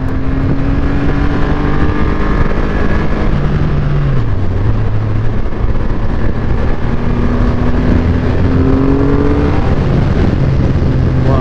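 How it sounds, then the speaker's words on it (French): A car engine holds a strong, loud drone under heavy engine braking in third gear, the pitch sliding down and shifting as revs fall, with no speech over it. "Gros frein moteur évidemment"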